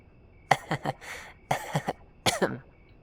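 Three separate bursts of dry coughing, each a quick cluster of two or three hacks with brief pauses between, close and fairly quiet.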